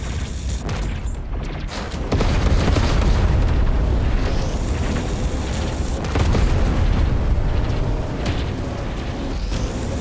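Weapon fire and explosions in the space combat game EVERSPACE 2: a dense, continuous roar of booming blasts and rumbling bursts that swells after the opening seconds and stays loud throughout.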